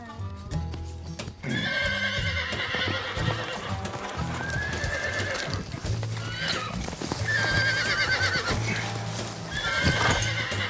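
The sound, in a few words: horse neighing and hooves clip-clopping during training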